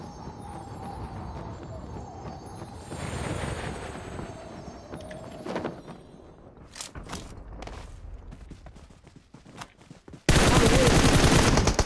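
Gunfire and footsteps sound in the PUBG Mobile video game, with a mix of shot bursts and thuds over game noise, ending in a loud burst of sustained noise.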